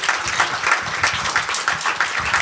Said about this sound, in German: Ich kriege schon einen Applaus.